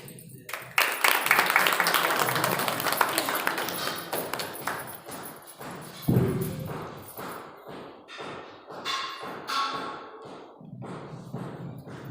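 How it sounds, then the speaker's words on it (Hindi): An audience at a satsang in Faridabad claps to welcome a sadhvi, applause spreading through the hall for several seconds in a loud, dense patter before thinning into scattered claps. "इनके लिए ताली हो जाती है"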